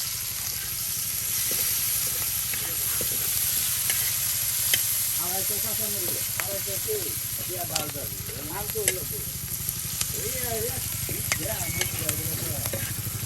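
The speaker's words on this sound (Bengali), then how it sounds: "তেল দিয়ে এটিতে তেল দেওয়া হইলো বাবা। অনেকটা ভাজা করা হবো" Potatoes and pangas fish fry in hot oil, giving a steady, close sizzle with intermittent stirring scrapes throughout, while a voice talks faintly in the middle stretch.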